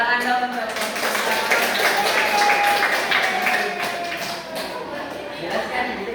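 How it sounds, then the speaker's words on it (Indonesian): Applause from a group in a presentation training session, a moderate wash of clapping that swells in the middle and tapers toward the end, with some background voices. "tepuk tangan dong"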